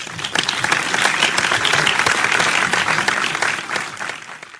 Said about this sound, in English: With a big round of applause, please welcome our global chairman